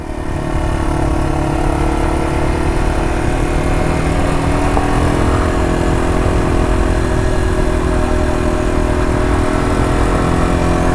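A Yamaha TW200 motorcycle engine drones steadily and loudly throughout while riding on an adventure trail, a constant mid-pitched thrum with no speech over it.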